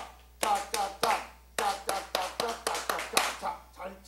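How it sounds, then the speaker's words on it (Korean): A group clapping hands in unison during a church service, marking a steady rowing rhythm; about a dozen sharp, close claps come in quick regular beats, with voices heard between them. "내가 지금 박수를 칠 테니까 저 박자에 맞춰서 한번 노를 한번 주는 연습을 하겠습니다"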